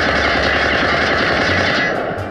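Continuous rapid automatic fire from an ICR-1 rifle shot at a wall in the mobile shooter game Call of Duty Mobile, loud and unbroken before it stops near the end.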